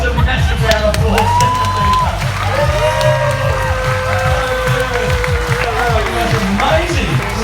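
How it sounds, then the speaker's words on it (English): Loud crowd noise at a live stage show, with shouts and whoops rising over a dense, continuous roar and a voice gliding through tones above it, rough and close throughout. "Give these guys a massive round of applause."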